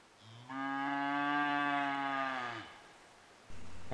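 Range cows out on Arizona elk country answer a bugling bull elk with a single long, resonant moo lasting about two seconds, fairly close and clear, followed by a pause and a low background rumble; no one speaks.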